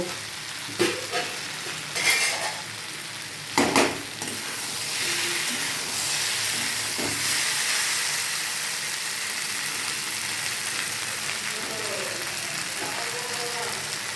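Sizzling jackfruit and potato curry masala for a vegetarian echor dalna: stirring clatters against the pan, a splash comes as about a cup of water is poured in, and then a loud, steady, bubbling hiss follows.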